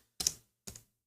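Two separate keystrokes on a computer keyboard as a process ID is typed into a terminal, short crisp clacks about half a second apart, close and fairly quiet, with no talking.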